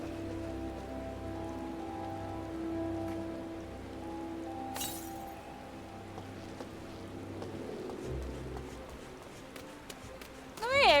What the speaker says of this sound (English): And it's raining, everybody. It's raining.